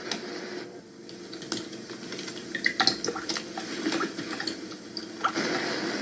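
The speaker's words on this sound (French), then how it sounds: "t'entends pas couler de l'eau?" Water trickles and drips from a tap in an old, long-disused house, a faint irregular patter of small splashes and ticks over a low background hush, with no voices.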